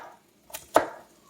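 A kitchen knife chops through a raw carrot on a cutting board: two crisp, close strikes, the second louder, with a short gap between them and no voices.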